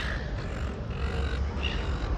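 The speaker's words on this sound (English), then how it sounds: "You can hear the birds." Birds call outdoors, with a few hoarse, crow-like caws rising over a loud, steady wash of wind and outdoor background noise.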